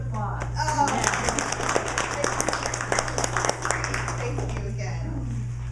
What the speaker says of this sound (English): How about really good applause?